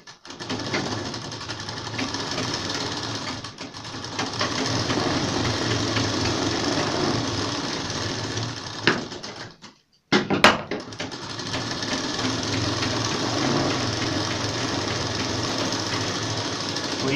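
A sewing machine stitching the front pieces of a ladies' pajama pant together, a loud steady mechanical whirr that cuts out briefly near the middle and then resumes, with no talking.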